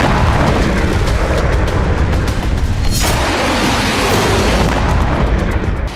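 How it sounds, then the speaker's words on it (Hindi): A powerful explosion from a small drone striking a tank roars loudly and rumbles on without pause, a dense blast of noise that fills the whole stretch. "इसीलिए एक छोटे से ड्रोन से टैंक में धमाका हो गया।"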